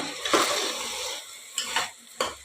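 Rice being stirred and mixed in a pan: a soft continuous scraping swish with a faint sizzle underneath, then a few sharper spoon strokes against the pan, close and moderately quiet.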